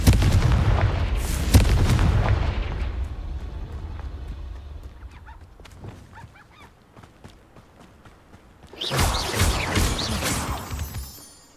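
A Confringo fire spell in Hogwarts Legacy bursts with a heavy booming blast and crackling debris, followed by quieter scattered impacts and then a second loud roaring burst near the end.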